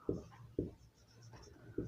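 Chalk or marker strokes taps on a board while a geometry proof is written, three short distinct knocks spaced about half a second to a second apart, quiet and close.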